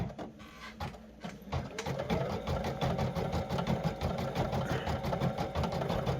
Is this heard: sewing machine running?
yes